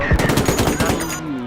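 Heavy machine gun in the video game Call to Arms, a loud, close, rapid burst of repeated shots firing in a steady rhythm without pause.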